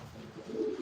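Racing pigeons in a loft give soft, low cooing, a murmuring coo rising briefly over a steady hum of the flock, close and alone with no talking.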